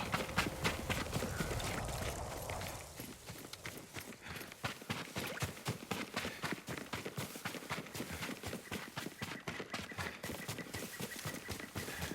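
Horse hooves clip-clop in the Ghost of Tsushima game world, a steady rhythmic gallop that settles into a quicker trot, close and fairly loud, with no one speaking.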